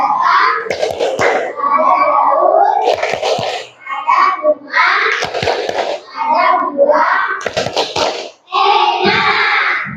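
Children in a primary school classroom, a fourth-grade science lesson on plant parts, chant a rhythmic plant clapping song together, with loud voices and bursts of hand claps recurring throughout.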